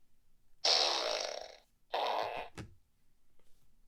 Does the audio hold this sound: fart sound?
yes